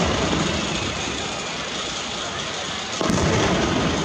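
Red and green fireworks at Nagashima crackle and rumble steadily, loud and dense, with a sharp burst about three seconds in.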